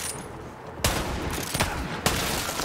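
A ricocheting zap weapon fires in the Borderlands 3 video game. Three sharp, loud discharges are spaced out over a dense, constant roar of game noise, and no one speaks.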